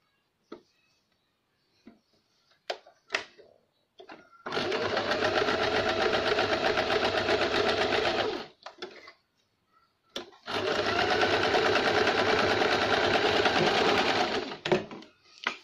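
Two sustained bursts from a sewing machine stitching a blouse along a slanted line, each running several seconds, close and loud, with brief handling clicks and taps between them.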